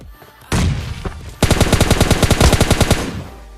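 Loud rapid-fire bursts from an M4 rifle in a shooting video game, one short burst followed by a long sustained volley of evenly spaced shots, close and dominant.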